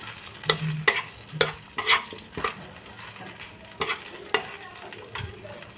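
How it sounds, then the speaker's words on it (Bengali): Whole spices for thecha masala aloo dum dry-roast in a pan on low heat, with a soft faint crackle under a rhythm of distinct spatula scrapes and taps against the metal. "মানে একদম আঁচ কমিয়ে জাস্ট কাঁচা গন্ধটা যাবে সেই রকম ভাজা হবে"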